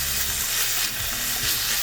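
Braised eggplant sizzles steadily in a frying pan while it is stirred with brown sugar, soy sauce and black vinegar, a dense hiss broken by soft scraping strokes.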